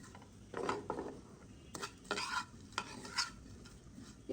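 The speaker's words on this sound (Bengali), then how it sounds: "ওই সেম ঘিতে এই লাচ্ছা সেমাইগুলো ভেজে নেব।" Lachha semai vermicelli frying in ghee in a home kitchen, with an irregular series of scraping, clattering stirs over a soft sizzle, close and moderately loud, no voices.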